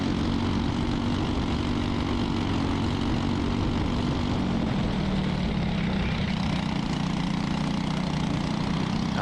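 A racing kart engine runs at high revs on a track, a loud, constant droning buzz that holds steady throughout with a slight pitch drop midway and no talking.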